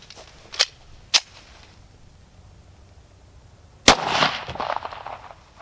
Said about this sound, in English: We're going to start with the 9mm out of a Browning high power, so we've got enough barrel length